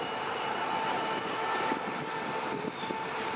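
A passenger train, the number 31 Thaksinarat express from Bangkok to Hat Yai, rumbles past at moderate distance, a continuous rolling clatter with faint rhythmic wheel beats and no talking.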